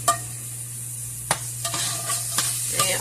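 Half an onion sizzles steadily in a frying pan for a soup with ham, white beans and potato, with a few light stirring clicks over the constant hiss.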